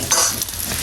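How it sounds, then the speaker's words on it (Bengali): An egg being fried in a pan for a khichuri meal, giving a brief, close, steady hiss of sizzling with a light scrape of stirring. "চলো ডিমটা ভেজে নেই এখন।"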